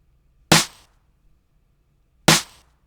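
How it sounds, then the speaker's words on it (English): Two bright, sharp layered clap hits built from several stacked samples with a wide stereo spread, spaced about two seconds apart, each with a short noisy tail, alone in a studio mix. "I had a clap sound, and I went around all my different clap banks and found this sound"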